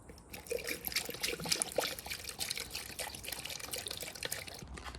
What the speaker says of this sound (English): I am gonna fill this up with water